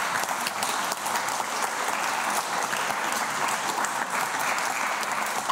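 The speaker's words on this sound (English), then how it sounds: "Could we please end with one last round of applause for all the speakers?" A Cambridge Union debate audience gives a closing round of applause for the speakers, dense and sustained clapping from a large room that fills the whole stretch evenly without any talk.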